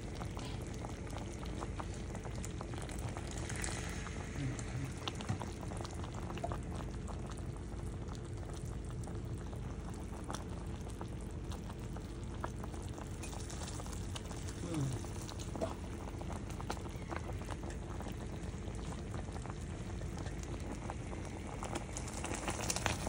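Sugar syrup for pistachio candy bubbling at a steady low boil, a faint continuous simmer heard alone from nearby.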